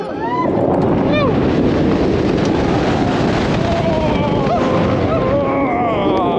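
Ride on Tigris, a 2019 Premier Rides Sky Rocket II roller coaster, with constant loud wind roar and rushing track noise, high whistling tones and riders' faint screams mixed in.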